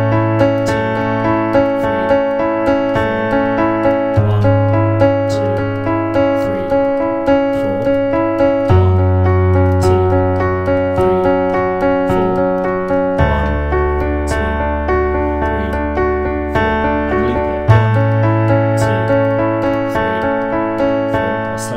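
Keyboard playing broken chords with both hands, the left thumb starting on A; a steady, evenly paced flow of notes over sustained bass tones that shift every few seconds, clear and close with no voice.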